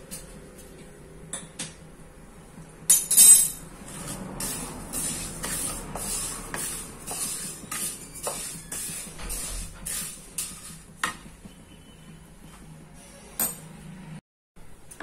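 Sesame seeds are lightly dry-roasted in a pan for til chikki, a faint hiss broken by soft crackles and metallic scrapes and clinks of the spoon against the pan, close and quiet with no voices.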